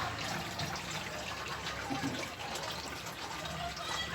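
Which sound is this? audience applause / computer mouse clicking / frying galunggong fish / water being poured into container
water being poured into container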